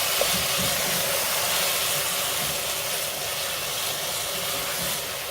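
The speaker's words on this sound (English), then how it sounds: "Now we are adding in our tomatoes and the pepper." Tomatoes and pepper tipped into a pan of onions for a homemade marinara sauce, giving a steady, fairly loud hissing sizzle that holds evenly with no speech over it.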